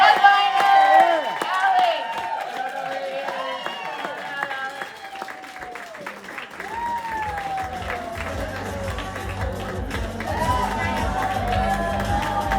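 Comedy club audience at Downstairs in Park City, Utah clapping and cheering, a burst of applause and whoops that eases off, with a voice speaking over it.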